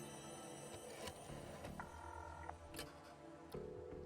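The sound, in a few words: telephone dialing and ringing in The Darkside Detective video game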